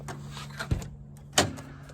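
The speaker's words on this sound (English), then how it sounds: "when you open the door" Driver's door of a 1999 Mitsubishi Eclipse being opened, a couple of sharp close clunks from the latch and door, one early and a louder one later, over a faint hum.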